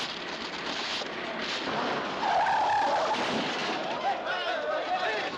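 An old car with no brakes skids, with a harsh screech and crunching noise swelling in the middle, loud and close, mixed with a lively 1939 film soundtrack.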